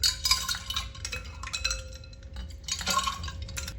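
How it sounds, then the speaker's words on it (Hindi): A lidded glass bottle gives bright clinks and clattering knocks close by in a kitchen, with a faint ringing tone and soft liquid movement between the taps. "अब यहाँ पे देखें ये शीशे की मैंने बोतल ले ली है ढक्कन वाली।"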